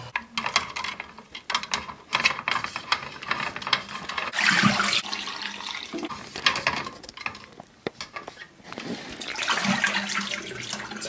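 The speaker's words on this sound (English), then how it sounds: "wash the film like this" Rinse water sloshes and gushes around colour film in a developing tank, coming in repeated rushing surges with clinks of the container between them, close by and with no voices.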